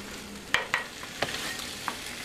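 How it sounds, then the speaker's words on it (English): Shrimp and sausage sauté in a pot for Cajun gumbo, a quiet steady sizzle with several sharp utensil clinks and scrapes scattered across it. "I'm letting this sort of saute."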